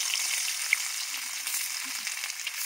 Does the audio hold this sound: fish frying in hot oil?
yes